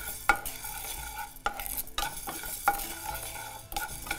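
Lentils dry-roasting in a pan, heard as rhythmic scraping and stirring strokes against the metal with a light sizzle underneath, close and fairly quiet, with a few sharp clinks from the utensil.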